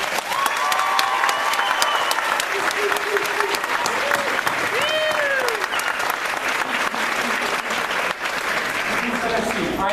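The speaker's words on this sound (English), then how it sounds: "And everybody, please give a big round of applause" Audience applause at a high school graduation ceremony, sustained dense clapping from a large crowd filling the hall, with a voice and scattered whoops carrying over it throughout.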